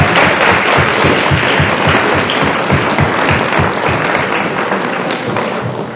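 A town hall audience breaks into sustained applause to thank the people who prepared the food, dense clapping heard loud and close, tapering slightly toward the end.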